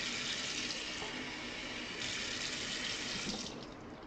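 Water pours steadily into a glass as a continuous hissing splash with no breaks, easing off slightly at the end.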